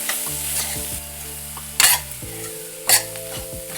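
Ground roasted cumin and chili powder fry in a pan under a steady close sizzle, broken by two sharp scraping stirs of a spatula against the metal.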